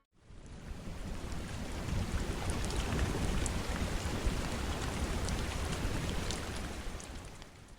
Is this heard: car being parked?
no